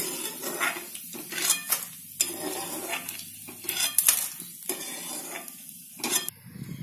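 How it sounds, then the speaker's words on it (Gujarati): Edible gum (gond) frying in ghee in a pan, with a steady soft sizzle under repeated close scraping and clinking of a spoon stirring against the metal, no talking. "તે બધો ગુંદ એકવાર તળી નાખશું આપણે"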